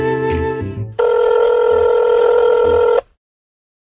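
A telephone rings with a steady electronic tone lasting about two seconds, preceded by a brief tonal burst and followed by sudden silence, loud and close with no voices.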